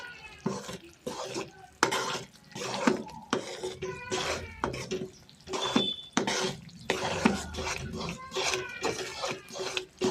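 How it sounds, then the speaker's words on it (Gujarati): A spoon stirring a laddu mixture made from leftover rotis with dry ginger powder in a pan, with repeated scraping and clinking against the metal, steady and close, in short irregular strokes. "હવે આપણે આને મિક્સ કરી દઈશું સરસ રીતે"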